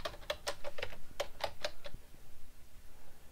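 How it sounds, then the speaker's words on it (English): A password typed on a computer keyboard, heard as about eight crisp, close key clicks in quick succession followed by a final heavier press, then quiet. "Now the Set Password dialog appears and we can type in a password."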